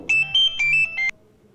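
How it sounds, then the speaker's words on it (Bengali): A phone ringtone plays nearby as a loud electronic melody of short repeated tones for about a second, then cuts off into quiet. "ফোন আসার সময় পেল না"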